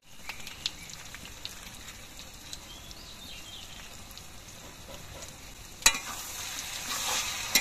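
Tomato sauce stirred into chilli chicken frying in a pan, a soft continuous sizzle with scraping stir strokes and a few sharper clinks near the end, close and fairly quiet.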